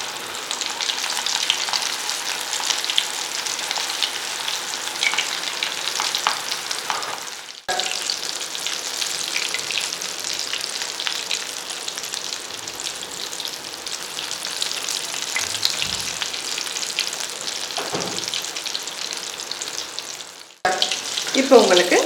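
Rolled cheese balls frying in hot oil over a low flame, a steady close sizzle with faint stirring and clinks, a brief break near the middle and another just before the end.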